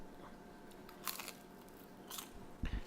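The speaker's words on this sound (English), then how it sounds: "It's got a nice crunch to it." Someone bites into crunchy homemade vegan bacon, giving a few quiet crunches and brittle snaps spread across a soft room background, with the loudest crunch near the end.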